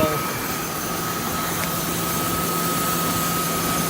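Steady idle of a 1998 BMW 740iL engine after an intake manifold gasket and vacuum line repair, a smooth even hum with a constant high whine, close and continuous with no talking.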